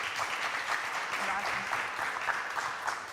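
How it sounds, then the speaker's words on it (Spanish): Steady applause from the audience for a panel at the close of the first day of an innovation summit in Chile, continuous and even throughout, with faint voices underneath. "podemos reiterar un cariñoso aplauso para todos ellos"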